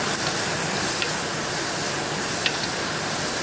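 Tomatoes and green chilies frying in a pan give a steady hiss and sizzle as they are stirred, close and continuous, with a couple of faint scraping clicks.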